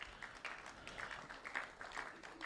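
A small audience gives sparse, scattered applause at a youth, peace and security conference in Nigeria, the claps faint and distant, lasting only a couple of seconds.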